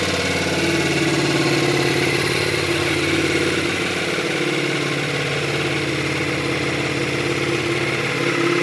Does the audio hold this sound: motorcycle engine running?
yes